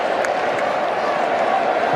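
A large cricket stadium crowd applauds continuously during a super over, a dense, even wash of clapping and murmuring heard from a distance, with a commentator's voice over it.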